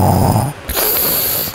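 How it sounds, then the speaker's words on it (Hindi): Zombies in the video game GTA 5 letting out a loud snore, a rough rasping inhale followed by a short pause and a second breathy snort, close and alone. "देख ज़ॉम्बी कैसे खर्राटे निकाल रहे।"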